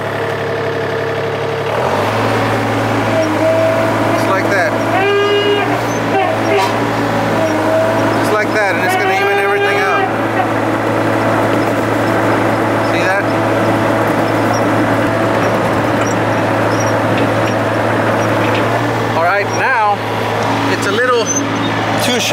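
A tractor loader's engine drones steadily at mid pitch after starting up, as the machine drives forward with its bucket lowered; the hum stays constant and loud, with occasional squeaks and rattles from the machinery.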